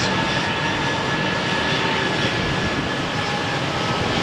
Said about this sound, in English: And now cleared for takeoff.